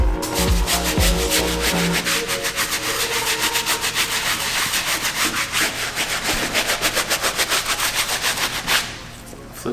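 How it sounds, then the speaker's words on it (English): A medium bristle brush scrubbing a Jordan 5 sneaker, rapid rhythmic back-and-forth rasping strokes, close and loud, a faint voice briefly heard at the start. "We're gonna move on to the medium bristle brush."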